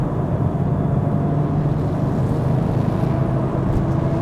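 Porsche 997.1 Turbo pulling at about 5,000 RPM in fourth gear, a loud, steady engine drone with road roar heard from inside the car, no talk.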